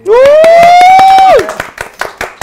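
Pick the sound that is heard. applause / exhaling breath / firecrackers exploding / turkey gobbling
applause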